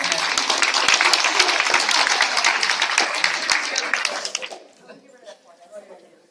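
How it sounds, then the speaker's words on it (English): A crowd claps loudly and steadily for about four seconds, then the applause drops off abruptly, leaving a few faint voices and scattered noises. "Everybody give Matt a big round of applause."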